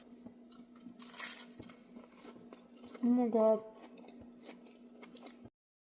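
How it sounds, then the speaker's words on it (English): Bite into a crispy grilled cheese sandwich dunked in soup, with a short loud crunching burst in the middle of the clip, preceded and followed by quiet chewing noises and a brief spoken exclamation. "And check out this crispy crunch."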